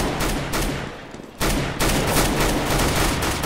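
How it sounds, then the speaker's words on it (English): Rapid bursts of pistol fire from dual-wielded handguns in CS:GO, loud and close, a dense volley with a brief lull before the shots resume. "I just love these dual wielding pistols."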